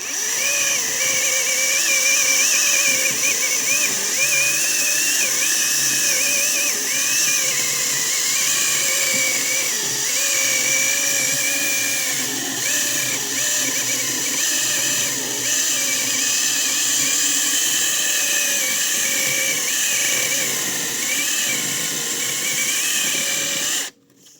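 A Zegor CSPP-21BL cordless chainsaw cuts outdoors in freezing weather near a metal structure, its high motor whine running loud and steady for the whole stretch before cutting off abruptly at the end.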